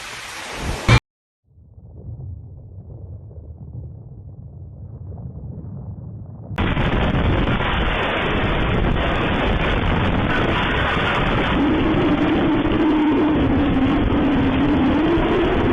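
Storm sound with a thud at the start, then a low rumbling roar, and from about 6.5 seconds a loud, steady wash of wind and heavy rain that stays dense to the end, no voices.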